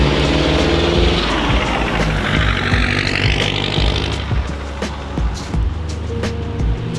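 A turbocharged car with an intercooler drives at speed, a loud steady roar of engine and road noise that swells and shifts in pitch partway through, with no voices over it.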